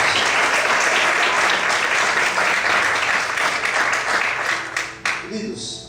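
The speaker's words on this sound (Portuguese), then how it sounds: "Você pode aplaudir o Senhor nessa noite?" A church congregation claps loudly and continuously, a thick wash of applause filling the room before tapering off near the end, with a voice faintly mixed in.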